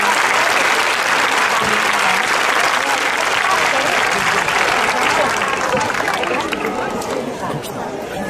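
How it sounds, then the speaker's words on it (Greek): A crowd at a martial arts demonstration in Alexandria gives sustained, loud applause, a thick continuous patter of many hands with faint chatter mixed in, easing a little near the end. "Ένα χειροκρότημα για τον Μάρκο."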